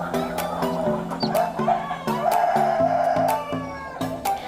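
Free-range kampung chickens cluck and cackle nearby in a steady run of repeated calls, fairly loud, with a higher, meow-like squawk mixed in and no speech.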